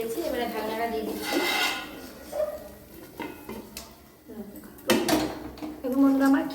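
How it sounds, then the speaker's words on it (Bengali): A lid is set onto a kadai of kheer being cooked, giving a brief metallic clink and clatter among other kitchen pot noises, with a person speaking throughout. "এবারে ঢাকনাটা দিয়ে দিচ্ছি"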